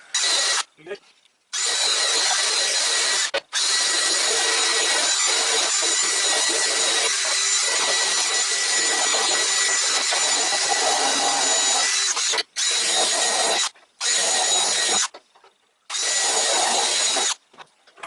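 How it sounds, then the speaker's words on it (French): Loud, steady whirring and scrubbing of a wire brush spun by a small cordless drill, cleaning rust off a metal clamp, running in long bursts with brief pauses between them. "Je vais juste avec la brosse de fer sur la petite visseuse."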